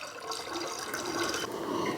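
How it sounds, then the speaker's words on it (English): Filtered water pours into a cyser fermenter of apple and honey, a continuous splashing trickle heard close up, with no voices. "1 liter of filtered water again."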